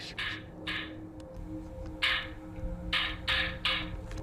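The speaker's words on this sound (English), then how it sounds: "That is the sound of metal clashing against metal" Several sharp metallic clanks ring out at irregular intervals, somewhat distant, over a steady low background hum.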